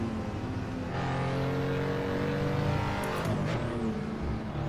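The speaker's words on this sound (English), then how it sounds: "There are a lot of cars over here, man." Steady engine drone of several road cars passing in heavy traffic in the Assetto Corsa racing game, continuous and loud, with a rising whoosh as one vehicle sweeps by near the end.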